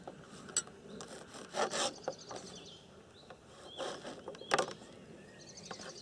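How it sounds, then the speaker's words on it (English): Knife cutting the crusts off slices of bread for a bread and butter pudding, heard as quiet, irregular rasping and scraping strokes with a few louder sawing bursts, close and without talk. "Once again, we cut the crusts off."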